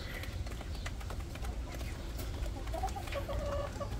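A large Rhode Island Red rooster clucking in a farmyard, soft intermittent clucks and short calls heard under a voice and faint background noise.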